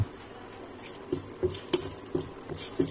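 Whole cardamom, cloves, a small bay leaf and split dried red chillies frying in hot oil in a pan, giving a soft steady sizzle punctuated by small regular pops and taps, close and fairly quiet.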